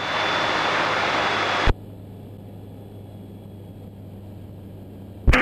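Light aircraft engine in flight, throttled back to 4000 RPM: a loud steady drone that abruptly drops to a quieter hum after a click, with another click and louder burst at the end.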